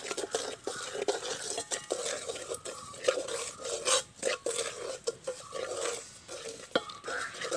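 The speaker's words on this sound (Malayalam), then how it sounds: "അടി കൂട്ടി നന്നായി ഇളക്കി കൊടുക്കണം" Spice masala being stirred in a pan on the stove, with a steady scraping and clinking of a utensil against the metal in irregular strokes, close and fairly quiet, with no voices.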